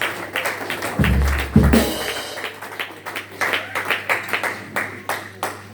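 A congregation claps during French church worship: rhythmic, fairly regular handclaps after a low thump, continuing steadily with light background voices.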